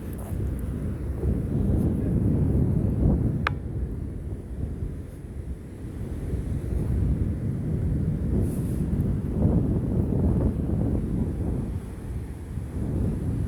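Strong gusting wind at a beach roars across the microphone in a continuous low rumble, rising and easing, with no other clear sounds.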